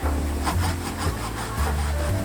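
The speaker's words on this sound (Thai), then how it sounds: "พอเราเลื่อยตรงนี้เสร็จแล้วนะคะ" A hand saw cutting wood for a plus-shaped joinery joint, with steady back-and-forth strokes rasping loudly and close, no talking.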